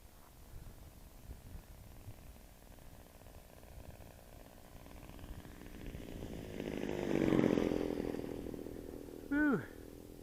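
A small Edge 540 model airplane's engine drones faintly in the distance as it flies in to land, swelling briefly louder, then fading, before a short higher-pitched whine near the end.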